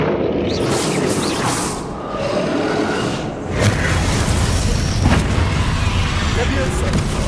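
A Bombarda spell explosion goes off in the video game Hogwarts Legacy, a loud booming burst in the middle of continuous combat noise, with a voice calling out during the fight.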